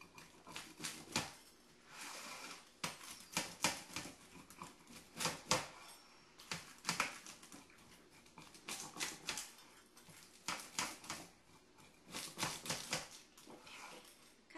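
Gluten free steak pizza being cut into pieces, with repeated bursts of crunchy scraping and knife or cutter strokes against crust and board, close and fairly loud in an uneven rhythm, without talk.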